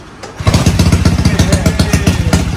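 A Honda Wave motorcycle's engine kicks into life on a genuine manual starter, then runs close and loud with a fast, even putter.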